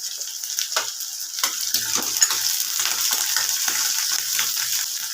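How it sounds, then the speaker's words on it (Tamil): Small onions, dried red chillies and cumin fry in hot oil with a continuous crackling sizzle, broken by brief stirring scrapes and pops, close and fairly loud with no speech. "நல்லா வதங்கட்டுங்க."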